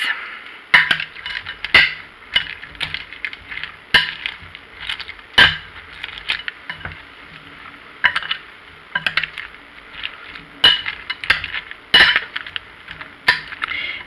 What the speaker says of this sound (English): So I'm going to give this a mix.